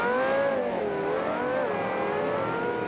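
GT race cars on a formation lap at the Bathurst circuit, several engines droning and revving with wavering pitch as the pack rolls by, loud and continuous, no one speaking.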